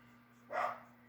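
A single short dog bark sounds faintly from another room over a steady low electrical hum, with no voices.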